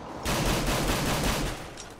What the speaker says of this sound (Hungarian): Mondjuk ne lövöldözzetek már ennyire.